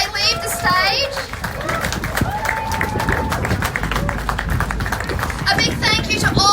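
Applause from a crowd at a pin-up pageant at an Australian classic car show as contestants leave the stage, steady clapping mixed with cheers, children's voices and nearby chatter.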